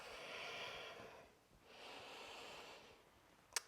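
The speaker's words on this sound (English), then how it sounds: "Breathing through the movements here." Slow, deep breathing during a shoulder and arm exercise, two long airy exhales in close succession, quiet and close, ending with a short sharp sniff.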